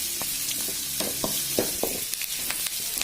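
Chana dal and urad dal sautéing in hot oil for an uttapam made from sour dosa batter, giving a continuous bright sizzle broken by several sharp spoon taps and scrapes, with no talking.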